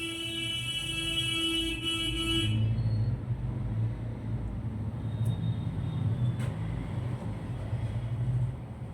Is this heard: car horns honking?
yes